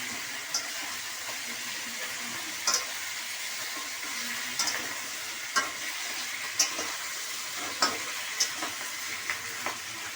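Rohu fish head pieces frying in hot oil for a Bengali curry, a steady close sizzle with occasional sharp pops and crackles spread through the clip and no talk.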